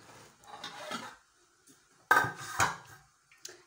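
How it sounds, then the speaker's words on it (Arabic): A cooking pot is handled close by, with a few sharp metallic clanks and knocks separated by quiet gaps. "هنايا عندي البرمه"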